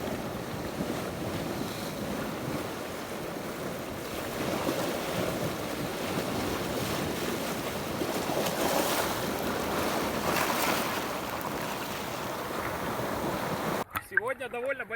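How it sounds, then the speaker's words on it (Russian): Big surf rolls in at a tropical island beach, a continuous rushing wash of waves mixed with wind buffeting the microphone, swelling louder midway before a brief drop at the end. "Сегодня довольно большая волна, и поэтому выбраться с пляжа очень непросто."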